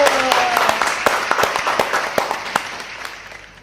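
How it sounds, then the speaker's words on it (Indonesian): Applause from an audience after a talk on ikigai, a crowd clapping with sharp individual claps popping over a continuous hand-clap wash that thins out toward the end. "tepuk tangan dulu"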